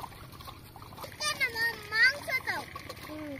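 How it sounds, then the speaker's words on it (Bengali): Pieces of chicken being washed by hand in a bowl of water, with soft splashes and sloshing at a picnic outdoors while people talk nearby. "আমি চিকেনটা এখন ভালো করে ধুয়ে নিচ্ছি।"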